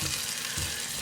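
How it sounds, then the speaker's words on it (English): Onions frying in a pan that is not non-stick while being broken up for chicken paprikash, with a steady close sizzle and soft utensil scraping and stirring throughout. "Trying to bust some of these onions up."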